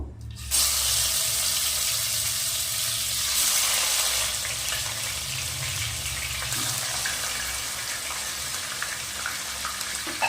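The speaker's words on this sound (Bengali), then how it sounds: "কড়াতে সর্ষের তেল দিয়েছি মাছ ভাজার জন্য মাছটা সাবধানে ভেজে নেব" Fish fries in mustard oil in a wok, a loud, steady hiss and sizzle that holds for several seconds after the fish goes in, with no voices.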